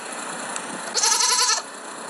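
A goat bleats in a quavering, drawn-out cry of about half a second, loud and fairly close, over steady background noise.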